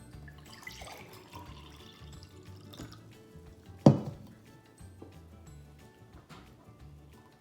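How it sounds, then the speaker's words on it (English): Stinging nettle liquid is poured into a glass, giving soft trickling and dripping water sounds with one sharper splash near the middle, close and fairly quiet. "I'm just going to pour it into this glass"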